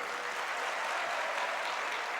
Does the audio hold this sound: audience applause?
yes